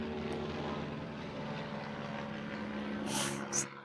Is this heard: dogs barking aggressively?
no